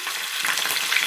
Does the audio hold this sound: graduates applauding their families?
no